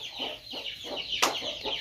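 A hen clucks among her newly hatched chicks in a rural home, giving a close series of short, rhythmic clucks with one sharper, louder call partway through.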